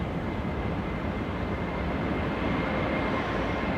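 A Ryanair airliner departs Manchester Airport, a steady, dense jet engine roar that holds at a constant loud level for the whole stretch, with no voices over it.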